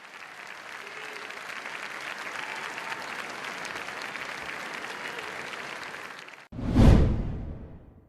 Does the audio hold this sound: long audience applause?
yes